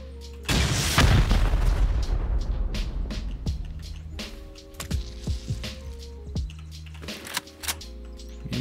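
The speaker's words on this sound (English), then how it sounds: "I guess we'll go ahead and send a rocket since there's two." A rocket is fired at a player base with a glass window in a raiding survival game, opening with a loud, heavy boom and rumble that fades, followed by scattered thumps, clicks and tonal game sounds.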